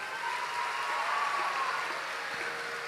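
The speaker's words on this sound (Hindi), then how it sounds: "एक बार इनके भाव के लिए ताली बजाएं।" Audience applause at a religious katha gathering: a dense, continuous patter of many hands clapping at even loudness, with a faint voice beneath.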